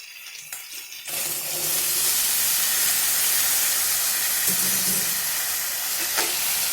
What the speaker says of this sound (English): Now add boiled cauliflower.